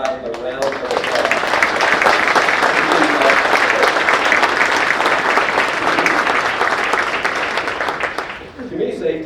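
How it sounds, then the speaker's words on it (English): An audience at a State of the City address applauds first responders in a sustained, dense round of clapping that swells quickly, holds steady for several seconds, and fades near the end, with a few voices at the edges. "So please give our first responders, we have several of them here tonight, a round of applause."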